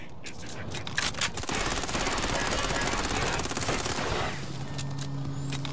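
Continuous heavy gunfire in the Watch Dogs: Legion online video game, a dense loud barrage lasting several seconds with a voice speaking over it.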